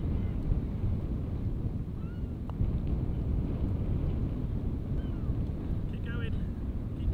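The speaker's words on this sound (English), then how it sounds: "It is windy though." Strong wind buffets the open ground of a seaside golf course at Barton on Sea, roaring steadily and loud in broadband gusts throughout, with faint voices underneath.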